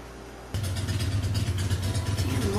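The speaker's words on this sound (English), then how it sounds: "Damn, motorcycles." Motorcycle engines revving as they pass nearby, a loud, steady mid-range roar that cuts in abruptly over a quiet background and holds with a rough, rumbling texture.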